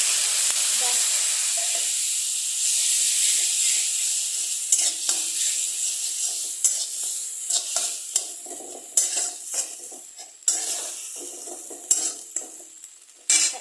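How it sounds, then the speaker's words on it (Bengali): Flour being toasted and stirred in a pan for a chicken stew: a steady close sizzle with scraping stirring strokes that grow sharper and more frequent toward the end, with no talking. "ময়দাটা দিয়ে এটাকে এখন ভালো করে একটু কষিয়ে নেব।"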